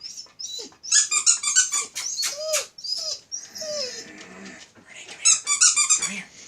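A playful dog growls, squeaks and whimpers in quick, uneven bursts, close and fairly loud, with short gaps between the noisy play sounds.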